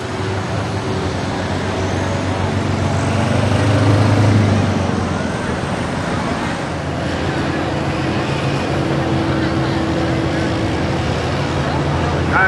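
A heavy pulling tractor in the 10,700-pound class roars at a tractor pull in Langford, New York, with a loud, steady, rumbling engine drone that swells briefly before holding constant.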